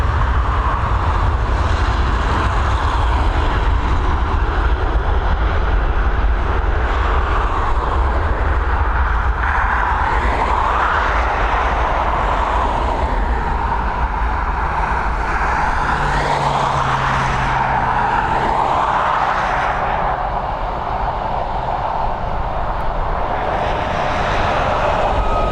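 A Mitsubishi regional jet takes off from Dublin Airport, a loud, steady engine roar that holds throughout the clip and carries a gently shifting whine, with no voices.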